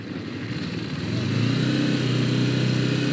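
A motorcycle engine drones steadily while riding on the road, heard close from the rider's position, its low rumble rising in pitch and loudness partway through as the bike speeds up.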